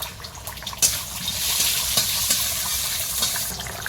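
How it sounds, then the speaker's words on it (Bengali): Dried red chili, bay leaf and black mustard seeds hitting hot oil in a pan over a lowered flame, a bright continuous crackling sizzle that surges after a sharp start and holds steady, close by with no talking. "তেলের মধ্যে একটু শুকনো লঙ্কা তেজপাতা আর একটু কালো সর্ষে দেবো"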